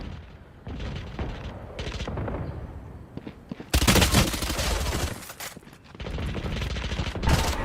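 Rapid automatic gunfire in the tactical shooter Valorant, loud bursts and sustained volleys of shots close by, intensifying midway with dense rattling fire.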